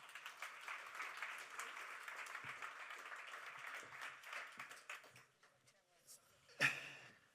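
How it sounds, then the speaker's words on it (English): Conference audience at a donor experience summit gives a round of applause, a steady wash of clapping for about five seconds that thins out, followed by a voice and a brief loud bump near the end. "Round of applause, please."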